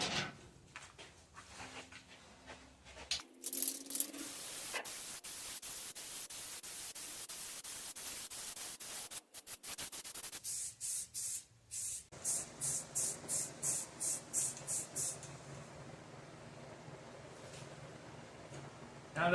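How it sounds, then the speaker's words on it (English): Long continuous hissing sprays from an aerosol can of primer paint, then a run of short rhythmic bursts, with a few quiet clicks and rattles between them. "Now's the time to start spraying."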